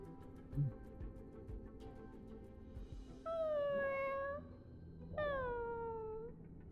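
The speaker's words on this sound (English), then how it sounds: "Aw, kitty." A cat in the Honkai: Star Rail video game gives two long, drawn-out meows a couple of seconds apart, clear against a quiet game background with no talking.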